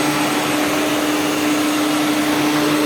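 IEC Compact Electra C8 vacuum cleaner with a chevron brush roll power head grooming a rug, a loud steady motor whine with a constant hum, running alone up close.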